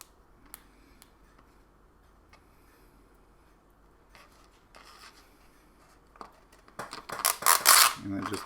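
Cut infusible ink transfer sheet being peeled away during weeding for a Cricut project on wood: faint crinkles and taps, then a louder rustling peel near the end, with a voice speaking softly.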